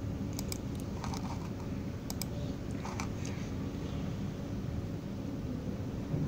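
Light, scattered keystrokes on a computer keyboard, several quick clicks in the first few seconds, faint over a steady broadband hiss with no talking.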